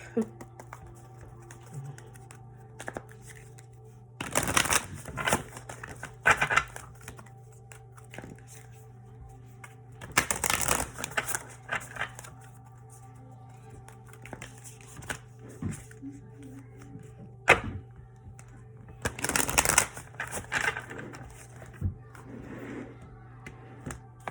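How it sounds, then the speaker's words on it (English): Tarot cards being shuffled in three separate riffling bursts with quiet handling sounds between them, close by and fairly soft. "Sometimes it takes forever to shuffle these cards."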